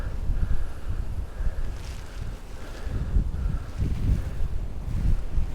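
Steady southwesterly wind gusting across open water while out pike fishing, a low rushing roar with microphone buffeting and faint lapping from a boat, rising and falling without any talk.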